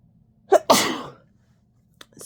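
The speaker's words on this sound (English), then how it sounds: "I feel like I'm going to sneeze right away." A single close sneeze, a short sharp intake followed by a loud burst that trails off, then near silence and a faint tap.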